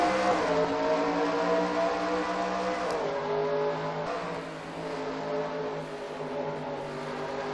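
Race cars in a video game accelerate together at a green flag restart at Gateway, a dense loud engine drone with rising revs from a pack of cars, steady throughout without talk.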